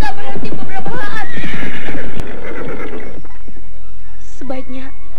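Horse whinnying amid dense dialogue and background sound for the first half of the clip, then short distinct neigh-like calls near the end, with a weary horse on a journey toward a riverbank.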